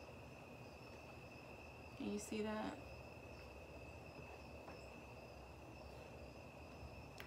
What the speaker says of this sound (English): Can you hear my crickets?